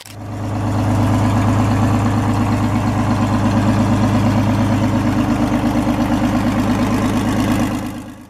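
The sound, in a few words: Detroit Diesel 671 inline-six diesel engine idling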